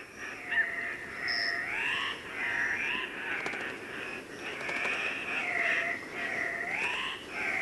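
A bird calls repeatedly with rising, wavering, somewhat nasal notes over soft background ambience, moderately distant.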